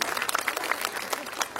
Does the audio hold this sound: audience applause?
yes